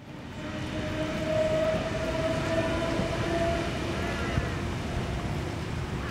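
A train runs through a railway station, a steady rumbling roar with a sustained horn-like whine, fairly loud and continuous throughout.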